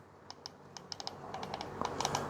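D-pad of a GameSir G8 Galileo smartphone controller pressed repeatedly, a faint, quick series of light plastic clicks in an irregular rhythm against a soft background hiss.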